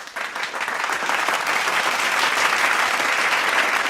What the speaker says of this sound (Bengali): তাই রাহুলদার জন্য একটা জোরে হাততালি হয়ে যাক